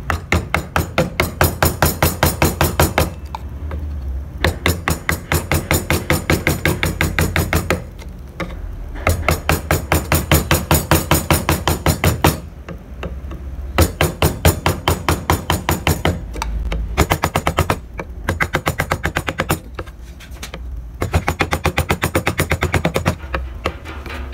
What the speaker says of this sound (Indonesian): Kalian bisa gunakan pahat kol ya teman-teman.